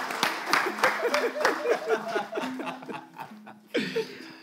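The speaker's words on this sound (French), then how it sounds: "On va applaudir Bella, on va la raccompagner à sa place." An audience applauds Bella as she is led back to her seat on a June 24 live broadcast, with scattered claps mixed with laughter and voices talking over them, thinning out toward the end.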